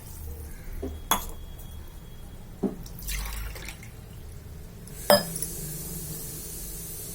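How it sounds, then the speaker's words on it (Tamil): Glasses of water are poured into a pot for cooking rice, with quiet splashes, drips and a few sharp glass and metal clinks spaced apart in a calm kitchen. "4 கிளாஸ் தண்ணி ஊற்றியாச்சு"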